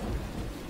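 Rain in the Deadly Premonition video game, a steady dense patter with a low rumble underneath, brief and loud, with no speech.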